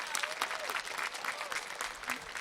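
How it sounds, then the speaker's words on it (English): A 2021 graduating class at Paseo Academy of Performing Arts claps for itself in a dense, continuous burst of crowd applause that fills the hall. "I'd like to open this by first having us give ourselves a round of applause"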